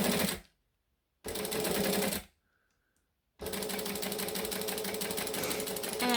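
A sewing machine stitches forward and back along a line in three bursts of rapid, even mechanical chatter, separated by short pauses, close and clear.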